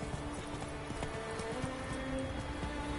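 Roach the horse gallops in The Witcher 3 video game, with a quick run of close hoofbeats clattering over game music and ambience, steady and moderately loud throughout.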